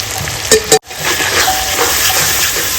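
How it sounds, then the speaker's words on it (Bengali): Ginger, garlic, dried chilli and cumin paste with turmeric and salt sizzling steadily in a pan over fried onion, with two brief clinks of a stirring spoon near the start and a continuous close, even frying hiss throughout. "সব কিছু দিয়ে আমি মশলাটা সুন্দর করে কষিয়ে নেব"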